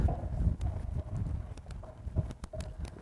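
Horse hooves moving at a reining clinic in Iowa, a soft, irregular clip-clop of steps over a low rumble of wind and ground noise, fairly close and steady.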